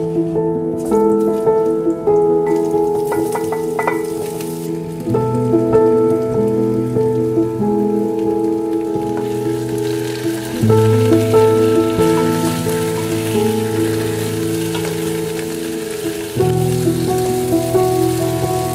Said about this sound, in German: werden die Kartoffeln in Öl dann etwas anbraten